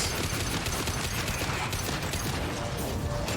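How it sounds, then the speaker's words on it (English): Heavy gunfire and battle noise roar without pause in a Mass Effect 2 fight as a giant cannon fires on a tower, a dense wall of shots and mechanical clatter. "Giant cannon shooting at the tower."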